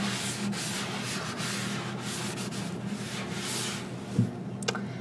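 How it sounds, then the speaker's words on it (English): A sponge scrubber rubs back and forth over a dirty surface, giving a continuous soft rasping scrub at close range with a couple of brief knocks near the end. "Quickly, I'm just going to use the scrubbing tool."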